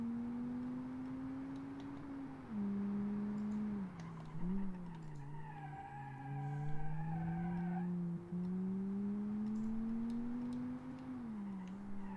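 A car engine in BeamNG: a steady, low drone hums throughout, dipping and rising in pitch as the revs shift, with a faint higher whine layered above.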